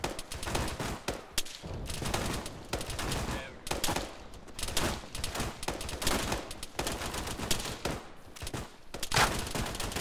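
Sustained rifle fire with grenade launcher rounds pounds a brick wall in Arma 3, dense bursts and repeated shots rolling on loudly for the whole stretch with brief gaps.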